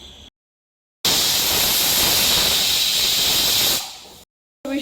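A pressure cooker on medium flame, cooking menthya bath, lets out a loud sustained steam hiss for about three seconds, starting abruptly after a brief silence and tapering off at the end.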